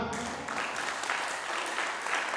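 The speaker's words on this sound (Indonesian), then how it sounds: "Tepuk tangan untuk Tuhan" A crowd applauding during a Sunday church service, dense clapping that starts abruptly and holds steady throughout.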